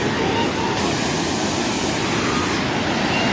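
Floodwater rushing during a flood in Nepal, a loud, steady, close roar of churning water filling the whole moment without a break.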